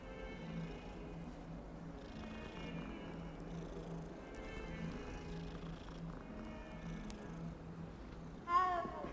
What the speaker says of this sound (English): Oh, there's a cat. I can pet it.